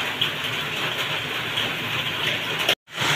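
Heavy rain pours down in Gurgaon as a loud, unbroken broadband hiss that drops out abruptly for a moment near the end before resuming.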